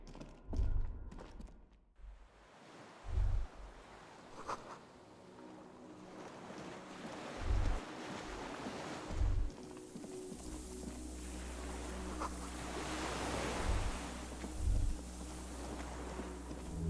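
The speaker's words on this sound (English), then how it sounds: "Water." Waves wash and surge against the shore in the Disco Elysium video game, a steady ambient roar of surf and wind with occasional deep low thumps, no voices over it.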